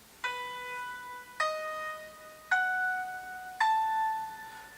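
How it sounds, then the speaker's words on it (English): An ear-training app plays dominant seventh chords in a clean, piano-like tone. Four chords sound in an even sequence, each struck cleanly and sustained before the next, alone with no voices. "I've set it so it's going to play only dominant seventh chords"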